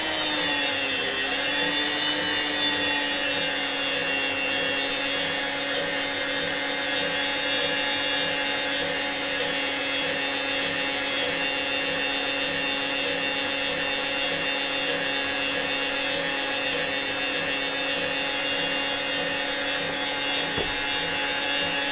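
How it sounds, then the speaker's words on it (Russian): A GEMLUX planetary stand mixer whips apple puree at medium speed, giving a steady, whining motor hum with a constant pitch that runs unbroken for the full stretch. "опять можете включить дежу миксера и взбивать пюре, чтобы оно было пышное. Взбивайте на средней скорости"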